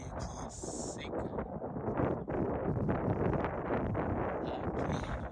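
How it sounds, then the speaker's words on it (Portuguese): Strong wind blowing across a riverbank near a dry patch of forest, a continuous loud buffeting rush striking the microphone throughout, with no break. "Um vento muito forte aqui do outro lado aqui."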